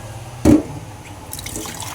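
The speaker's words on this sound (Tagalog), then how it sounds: "Kuha tayo sa gripo ng tubig." A single short splash or gush of water from a tap into a container, close and fairly loud, then quiet room noise with faint trickling.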